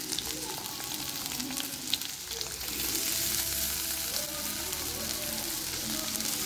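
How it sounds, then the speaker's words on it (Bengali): Green chillies spit and sizzle in hot oil, a continuous close crackling hiss that thickens about halfway through, with faint stirring underneath. "তো এখন আমি তেলের ভিতরে কাঁচামরিচ দিয়ে দিব।"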